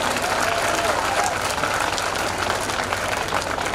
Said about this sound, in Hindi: बच्चों सभी अतिथियों के लिए तालियां एक बार जोर से।